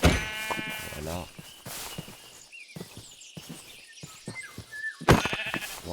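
Minecraft sheep bleat in several short, nasal calls, near and clear, one at the start and another near the end, with a player talking between them and soft footsteps in the game.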